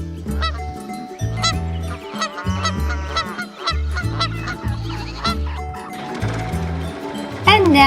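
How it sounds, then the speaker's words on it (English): Geese honking and gabbling loudly in repeated bursts, the cries rising at the alarm of approaching danger, with a voice faintly present beneath them. "Both sexes utter loud honking or gabbling cries while on the wing or when danger appears."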